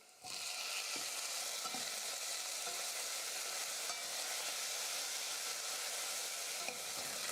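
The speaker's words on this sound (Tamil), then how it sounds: "அதையும் சேர்த்து நல்லா வதக்கிக்க போகிறேன்." Chopped tomato and onions sauté in a pan for a South Indian kulambu, producing a dense, continuous sizzle right after a brief quiet start, broken by faint taps and scrapes of stirring.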